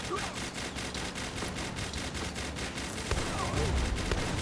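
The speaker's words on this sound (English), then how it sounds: "stop taking shotguns to the face." Rapid shotgun fire in the video game Palworld: a dense, steady barrage of sharp repeated blasts throughout, loud and close, with a brief voice mixed in.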